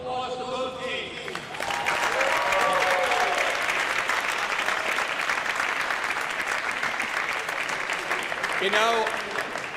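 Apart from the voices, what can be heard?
applause for both teams at National Squash League finals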